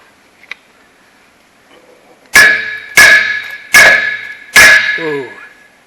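Four loud, evenly spaced metallic strikes ring out close by, each hammer blow on an ejector ram leaving a bright, lingering clang.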